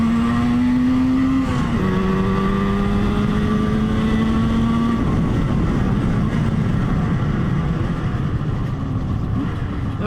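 A Moto Guzzi TS 250 two-stroke motorcycle engine, warmed up after its first start, revs smoothly up and down. Its buzzing tone rises and falls clearly and loudly, close by, with no talk.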